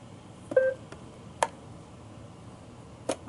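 An iRobot Roomba 620 robot vacuum gives three short, clear electronic beeps spaced about a second apart, with faint room hiss in between.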